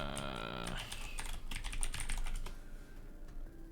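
Rapid clicking keystrokes on a computer keyboard with wires lying across it, a dense run of taps close by, with a voice talking over it.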